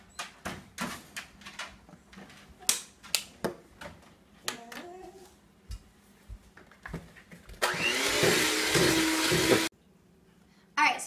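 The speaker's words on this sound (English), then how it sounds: "Next, you're going to mix in your egg and vanilla extract." Electric hand mixer blending egg and vanilla extract into batter, a steady whirring burst of about two seconds near the end, following scattered clinks and bumps of kitchen handling.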